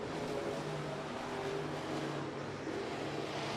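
Midwest modified race cars at Miller Central Speedway running side by side down the front straightaway, a steady loud engine roar holding throughout with no break.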